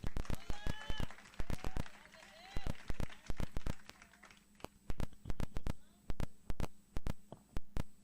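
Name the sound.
congregation applauding for the Lord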